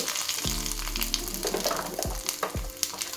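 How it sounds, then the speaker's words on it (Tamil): Mustard seeds and cumin spluttering in hot oil for tempering a green-gram gravy, a busy, close crackling sizzle with a few sharper pops over a short stretch. "கடுகு போட்டு கொஞ்சமாக சீரகம் போட்டுக்கலாங்க. ஏன்னா தாளிப்படகம் போட போகிறோம்"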